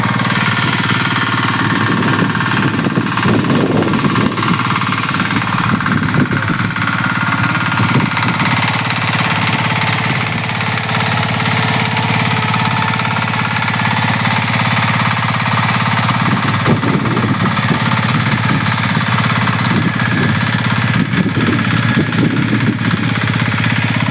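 A mini tractor engine runs steadily and loudly close by, a constant rough, rattling drone with knocking vibration that holds for the whole stretch without pause.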